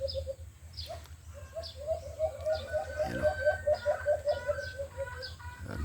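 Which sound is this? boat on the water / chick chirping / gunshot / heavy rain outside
chick chirping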